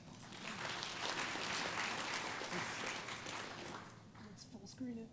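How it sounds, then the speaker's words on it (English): Conference crowd at an ElixirConf lightning talk clapping, a moderate steady patter that swells and then thins out toward the end as faint voices return. "Everybody really give Adam a round of applause."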